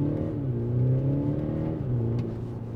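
A diesel Audi SQ5 Sportback engine revs hard on the throttle, a steady close-up drone that swells and dips briefly with no talking.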